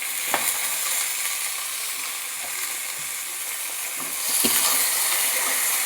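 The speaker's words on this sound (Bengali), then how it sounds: "এবার আমার রসুনটা ভাজা হয়ে গেছে, লাউ শাকটা দিয়ে দিচ্ছি" Boiled bottle gourd leaves stir-fry with fried garlic, giving a steady hissing sizzle with occasional spatula knocks. The sizzle swells louder in the last seconds.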